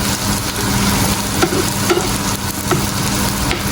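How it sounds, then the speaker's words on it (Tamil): Prawns and spices stir-frying in a pan, a steady close sizzle with a few light scrapes and clinks of a spatula against the pan, no voices. "அப்படியே ராளை போட்டு மிக்ஸ் பண்ண போகிறேன்"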